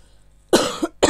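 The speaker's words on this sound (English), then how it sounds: "Excuse me, I always cough" A woman gives a single sharp cough followed by a second brief cough, close and loud after near silence.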